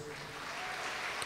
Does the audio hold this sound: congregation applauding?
yes